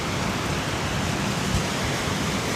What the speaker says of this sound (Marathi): चक्रीवादळ सुरू आहे, जोरात पाऊस चालू आहे